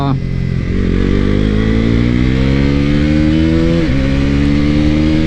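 A KTM motorcycle fitted with a quick shifter accelerates hard in fourth gear, its engine note climbing steadily and loud with a brief dip partway through as revs rise again.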